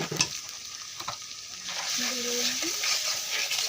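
A ground paste of cinnamon, cardamom and cumin fries in a pan with salt, starting with stirring scrapes and clacks, then settling into a steady, louder sizzle.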